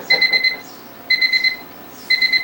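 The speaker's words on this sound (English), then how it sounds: "That alarm is for 11:23, and I put it on to remind me of something" A clock alarm set for 11:23 in the morning beeps in three loud bursts of four quick electronic tones each, with short pauses between the bursts and no talking.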